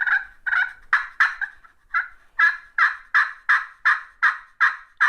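A glass-over-slate turkey pot call in cherry wood is worked in a run of rhythmic yelps, about a dozen raspy, throaty notes, close and loud with no talk.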